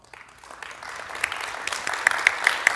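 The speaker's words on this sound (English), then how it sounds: "So, by round of applause, good re:Invent so far?" An audience at an AWS re:Invent 2017 security conference session applauds, the clapping starting faint and swelling into a steady mid-level round with a few sharper claps near the end.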